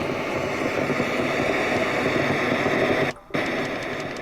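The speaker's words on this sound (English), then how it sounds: "Why is there static noise?" Steady, loud hiss of static pours from a Vivax BS-160 radio, continuous broadband noise that cuts out briefly near the end before resuming.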